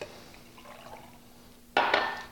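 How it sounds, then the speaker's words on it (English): Liquid is poured into a cocktail shaker holding ice and muddled mint for a summer cooler, a short bright splashing gush that starts suddenly near the end after a quiet stretch, close and fairly loud. "We're going to pour this liquid in there."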